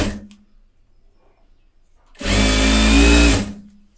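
A tailor's sewing machine stitching piping runs in one loud, steady burst of about a second, after a quiet stretch with faint voices in the background.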